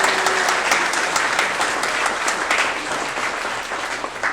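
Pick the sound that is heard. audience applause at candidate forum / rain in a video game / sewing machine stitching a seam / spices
audience applause at candidate forum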